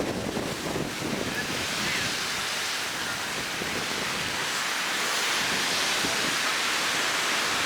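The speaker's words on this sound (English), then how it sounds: "Ooh, look at this wind out here today." Strong wind buffets the microphone on a Caribbean beach at a Dominican Republic resort, a loud continuous roar blending with the broad wash of ocean surf throughout.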